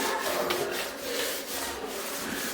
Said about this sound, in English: go ahead and take your rag and we'll try to wipe off anything that might be on the top